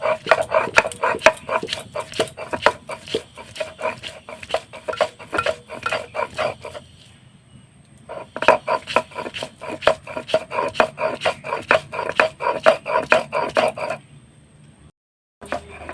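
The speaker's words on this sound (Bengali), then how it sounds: "তো ছোলার ডাল আর কয়েকটা কাঁচা লঙ্কা আমি বেটে নেব।" Soaked chana dal and green chillies are ground by hand on a stone, a loud, close, rhythmic rasping of rapid strokes in two long bursts separated by a short pause, with no talk.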